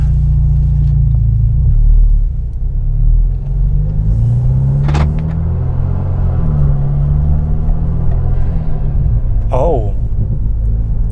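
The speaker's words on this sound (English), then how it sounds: "There's a definitive intake and kind of blow off sound now." BMW F30 engine fitted with a cold air intake, heard from inside the car as a loud continuous low rumble with rising and falling intake tones and a sharp hiss near the end, with speech over it.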